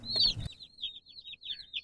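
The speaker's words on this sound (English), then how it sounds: "we're gonna make our way to the house with these noisy birds from the feed store" Young chicks from a feed store peep in a rapid series of high, thin chirps close by, with a short burst of rustling and handling noise at the start.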